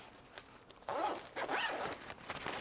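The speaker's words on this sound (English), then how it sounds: "let me find the zip." The zipper on the shoe compartment of an Incase A.R.C. travel pack being pulled open in a few quick, close, raspy strokes after a brief pause, with no talk.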